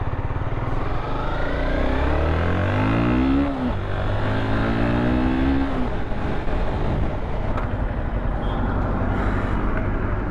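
A Kawasaki Z900 motorcycle engine revs on the open road, loud and close, with rising and falling pitch sweeps as the throttle is worked over steady wind and traffic noise.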